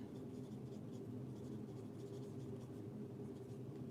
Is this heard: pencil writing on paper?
yes